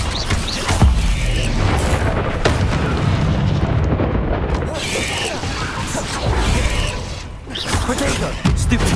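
Bombarda and Confringo spell blasts from Hogwarts Legacy gameplay, loud and continuous: repeated booming explosions and crashing debris over roughly nine seconds, with short surges and a brief lull near the end.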